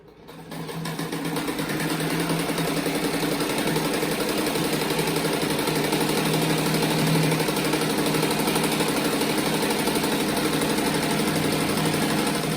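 Sewing machine running continuously while stitching a seam around the edge of a fluffy children's rug, a steady fast mechanical whir and rattle that holds loud and even after a short start.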